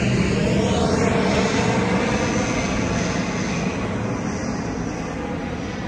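Fixed-wing aircraft flying over Tahuna Beach, a loud, steady engine roar that fills the whole span and eases off slightly toward the end, with no voices.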